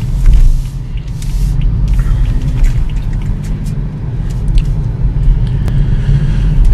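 A 2015 BMW 435xi M-Sport convertible drives along, heard from inside as a steady low engine and road rumble with faint tire hiss, loud and continuous, without speech.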